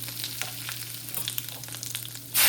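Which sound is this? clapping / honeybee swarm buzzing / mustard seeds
mustard seeds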